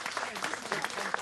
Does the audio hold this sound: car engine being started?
no